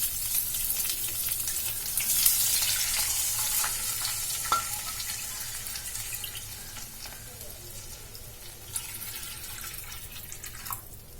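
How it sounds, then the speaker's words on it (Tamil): Water poured from a cup into a cooking pan while making a healthy homemade evening snack, a hissing splash that starts strong and gradually thins out, with a few light clinks of utensils and faint background sizzle. "நான் இந்த கப்புக்கு 2 கப் தண்ணி ஊத்த போறேன்"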